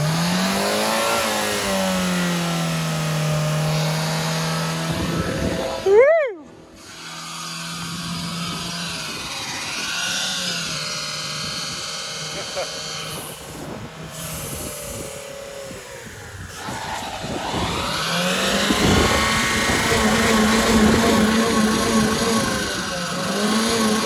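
A Honda Civic engine revs at wide open throttle. The note climbs sharply and cuts off abruptly, then builds again into long, loud, sustained high-rpm roaring that rises and falls close by.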